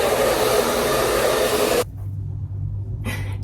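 A hair dryer blow-drying curly, thinning hair roars loud and steady, cuts out abruptly partway through, leaving a low hum, then starts up again briefly at the end.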